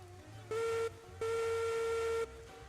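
A steam locomotive whistle sounds in Railroads Online, the Mogul engine giving a short toot and then a longer steady blast over a low rhythmic chuffing, clear and fairly near.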